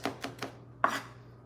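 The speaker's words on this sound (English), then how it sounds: "I'm gonna mince up these onions" A knife minces onions on a cutting board, striking four quick, evenly spaced chops close up, then pausing briefly before one more firm cut that fades into near silence.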